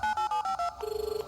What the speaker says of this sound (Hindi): इंदर ने उत्पल को फोन किया।